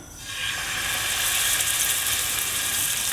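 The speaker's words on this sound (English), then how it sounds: "So when it's hot, you put the lamb in there." Lamb sealing in hot oil in a frying pan gives a steady, close, loud sizzle that starts sharply and then holds as a continuous bright hiss.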